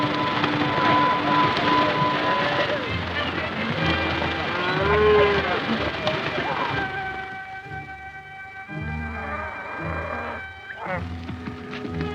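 Cattle mooing on a cattle drive, with long drawn-out lowing calls that rise and fall over a dense, busy background, fairly loud at first and thinning later, with other animal or music-like tones mixed in.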